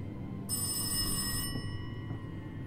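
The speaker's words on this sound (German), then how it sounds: "Wo ist denn das Telefon?" Telephone ringing in the horror video game Rise of Insanity: a single bright electronic ring lasting about a second over a low, quiet background rumble.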